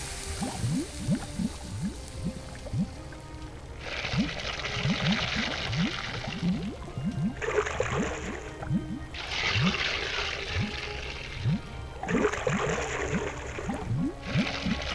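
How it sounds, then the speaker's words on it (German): Water simmers and bubbles in a pot while a potion is stirred in the video game The Book of Unwritten Tales, a steady gurgling bed with bursts of louder bubbling hiss coming and going. "Im Topf köchelt das Wasser."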